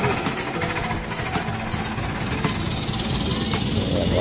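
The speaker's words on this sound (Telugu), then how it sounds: "ట్రాక్టర్ ఇంజన్ శబ్దం వచ్చేస్తుంది" A tractor engine runs steadily at a zoo, a loud, continuous rough mechanical rumble with a rapid knocking chatter that holds at an even level throughout.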